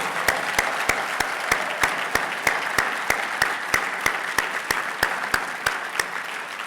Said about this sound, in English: please stand and receive a thunderous round of applause